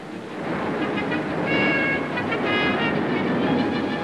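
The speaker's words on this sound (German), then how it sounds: "Ununterbrochen laufen die Züge auf dem Bahnhof ein." Potash mine rail wagons rumble into a station steadily with a constant heavy roll, metallic squeals rising now and then over the din; no voices.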